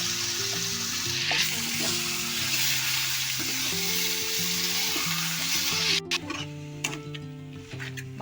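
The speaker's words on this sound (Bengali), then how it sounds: "তেলটা ভালো করে গরম হয়ে গেছে, এবার আমি দিয়ে দেবো চিকেনটা," Chicken dropped into well-heated oil in a home kitchen for a light fry, a bright continuous sizzle that breaks into crackling pops and clinks near the end, with quiet background music underneath.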